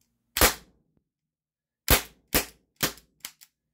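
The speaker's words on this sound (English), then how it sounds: "let me fire this last shot out" A Mercury Rise TR50 HPA air rifle fires sharp, loud pops: one shot, a pause, then three quick reports and a fainter final crack, each snapping close and decaying fast.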